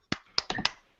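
A few people clapping for a cat, four sharp, quiet claps in an irregular burst, close by and with no talk over them.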